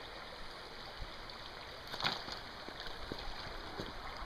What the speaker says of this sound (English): Here's the creek I was mentioning.